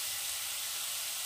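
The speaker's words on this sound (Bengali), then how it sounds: "তো আদাটা দিয়ে আবারও নেড়ে চেড়ে খুব ভালো করে নারকেলটাকে ভেজে নিতে হবে।" Grated coconut and ginger frying in a pan make a steady, bright hiss and sizzle, even and close, with no voices.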